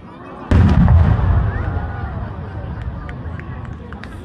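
A single loud firework bang bursts at the Tsu City Fireworks Festival in Mie Prefecture, Japan, then a long rumbling decay with faint crackles and pops trailing off in the distance.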